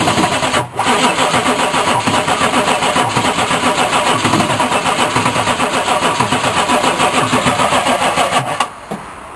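A one-ton diesel dually truck engine cranks on the starter in a long, fast, rhythmic chugging run, loud and close, fading off near the end.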